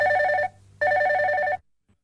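A telephone rings for a caller to a radio request show: two close, clear electronic ring bursts, the second a little longer, then silence.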